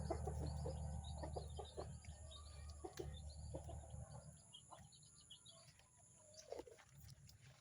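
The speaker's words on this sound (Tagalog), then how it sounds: "maraming mga mga manok" Chickens cluck in short scattered calls at a distance, with a faint hum underneath, quiet and irregular throughout.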